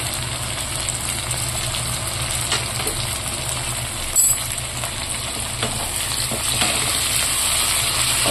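Tomato and green chilli frying in a hot pan for a prawn dish, giving a loud, continuous sizzle with occasional stirring scrapes and one brief sharp clatter midway, no talk.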